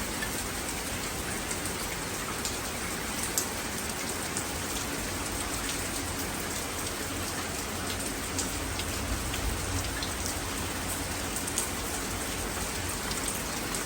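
Heavy rain pours down on a London night, a dense, even hiss of drops hitting surfaces with scattered sharper splats, constant and without pause.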